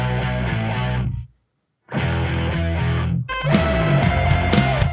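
Electric guitar with a nasty fuzz distortion tone in a rock song mix, loud and close, playing two gritty phrases split by a brief silence before a denser section with a sustained lead note.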